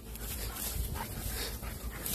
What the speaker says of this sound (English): And these are the dogs.